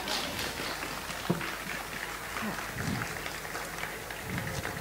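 An audience at a Celtic music festival in Trieste applauds as a singer is introduced, a dense, steady patter of clapping from a crowd, moderately loud and continuous, with a few voices and cheers mixed in.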